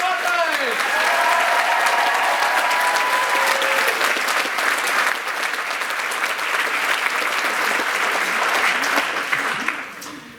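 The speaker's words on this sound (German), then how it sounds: "Und ein großen Applaus für das Rundfunk-Kasperorchester Nordrhein" Sustained audience applause at a school variety show for a graduating class, hailing the radio-style orchestra; dense clapping fills about ten seconds with a few cheers and whistles early on, then stops abruptly near the end.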